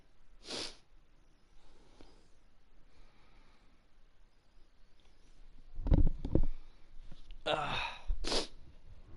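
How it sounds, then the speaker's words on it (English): Sniffling and snorting breaths from a person with a cold during cold Sydney weather, a few short nasal bursts near the microphone, one early and a tight cluster near the end, with quiet room noise between. "I got a bit of a sniffle because it's cold weather these days here in Sydney"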